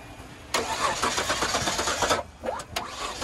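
A 2020 Ford F-150 EcoBoost pickup's engine cranks loudly and catches, running roughly for a couple of seconds before a brief stutter and restart.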